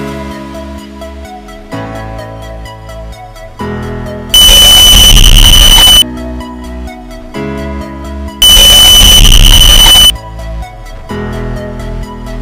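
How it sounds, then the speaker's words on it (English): An ANENG DT9205A digital multimeter's continuity buzzer gives two loud, sustained beeps of about two seconds each, separated by a pause, over steady background music. "Buzzer detection."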